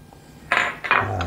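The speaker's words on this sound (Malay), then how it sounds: "kita aduk dia rata lah sampai dia rata" Two quick scraping strokes of a utensil against a metal pot, close and fairly loud, as a batter of flour, sugar, coconut milk and salt is stirred.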